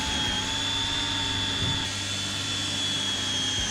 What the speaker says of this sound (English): Next, we're going to drill out the top two mounting brackets.